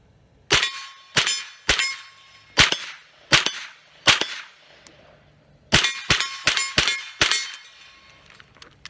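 A rifle fitted with a green 532nm laser sight fires a string of sharp, loud shots outdoors, about six irregular reports followed by a short pause and another rapid cluster of six, each with a brief ringing decay.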